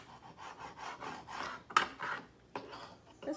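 A small glued Dollar Tree DIY craft piece is scraped flat in a few short, quiet rasping strokes, with a sharper scrape near the middle and a brief pause before the last ones.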